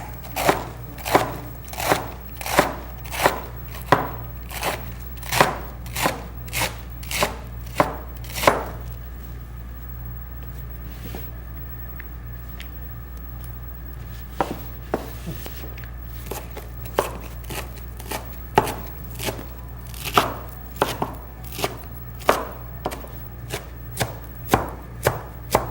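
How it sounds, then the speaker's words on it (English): Knife chopping salad greens very finely on a cutting board, sharp rapid taps in quick bursts with a pause in the middle, close and crisp over a faint low hum. "see how small I've chopped these greens?"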